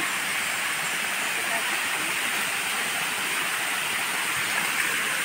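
Yaganak Falls, a deep waterfall, pours in a steady, loud roar with broad hissing rush that holds constant and close throughout, with no pauses.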